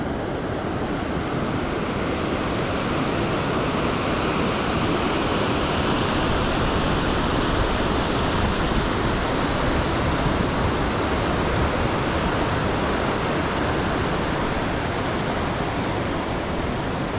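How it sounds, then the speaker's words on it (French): Giant waterfall in the Cirque de Gavarnie mountain amphitheatre, a dense, continuous roar of falling water, loud and unbroken throughout with no voices. "Les cascades avec le soleil."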